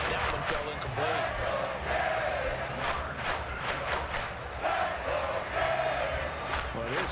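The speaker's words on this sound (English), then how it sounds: "this crowd is making an impact right now" A football stadium crowd roars continuously during a Jets game, a dense loud wash of cheering and shouting that swells at moments, with voices audible within the noise.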